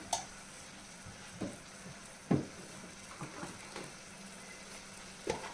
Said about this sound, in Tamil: பாருங்கள், இப்போ எல்லாம் சேர்ந்து கொதித்து வந்துடுது